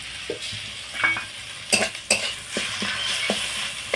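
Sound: ginger garlic paste sautéing with browned onions

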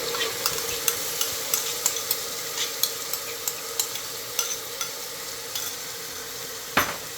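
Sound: tomatoes and ginger-garlic paste frying with browned onions

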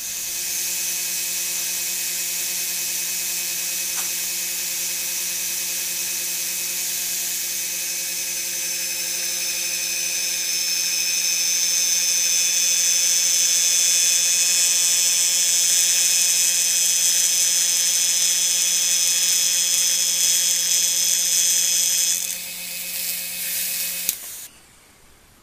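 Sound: vacuum chamber running while degassing silicone

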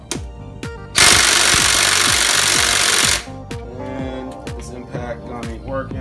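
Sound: socket wrench loosening engine connecting rod cap bolts

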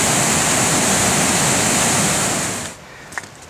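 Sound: roar of a large waterfall

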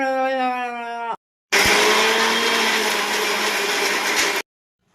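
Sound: mixer grinder grinding sambar masala

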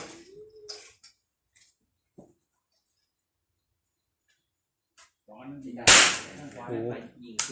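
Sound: CZ 457 AT-ONE rifle shots fired at a target

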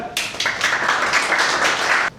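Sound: clapping for a classmate at a fire drill

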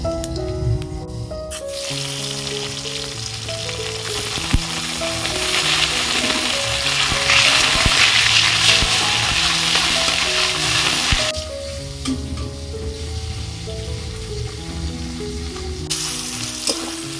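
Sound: chopped tomato frying and sizzling in a pan

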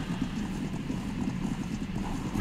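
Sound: horse hooves clip-clopping in a Viking roleplay video game

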